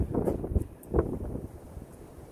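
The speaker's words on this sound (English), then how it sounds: "It is going to be windy, so I'll try not to talk as much." Gusty wind buffets the microphone with low, uneven rumbling and a few sharper thumps, with no voices.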